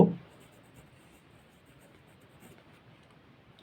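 Pencil scratching across paper while a diagonal scale is drawn, a soft steady rasp running quietly throughout after a brief louder knock at the very start.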